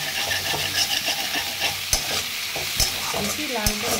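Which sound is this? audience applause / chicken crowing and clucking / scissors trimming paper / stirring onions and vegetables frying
stirring onions and vegetables frying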